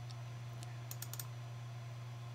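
A few soft computer keyboard key presses, brief clicks over a steady low electrical hum, close and faint.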